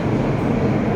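A BART train at the station produces a brief, steady, broadband rumble that stays close and fairly loud for about a second.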